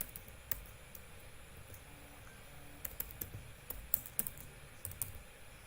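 Someone types a website address on a computer keyboard while building a mobile app, producing quiet, irregular key clicks in a short burst against a faint background hum, with no talk.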